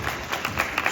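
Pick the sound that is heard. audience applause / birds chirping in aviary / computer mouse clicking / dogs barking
audience applause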